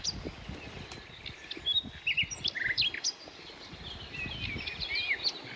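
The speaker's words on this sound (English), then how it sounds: "Passing birds are the only sound in the deep silence." Birds call over a river in a quiet, open outdoor scene, their chirps and twitters faint and scattered above a soft, steady wash of background ambience.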